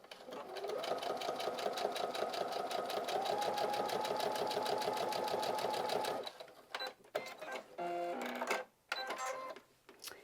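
Sewing machine stitching thicker vinyl pieces at a 2.5 stitch length, a steady rapid mechanical whir and clatter running loud and continuous for about six seconds, then short stop-start bursts of stitching.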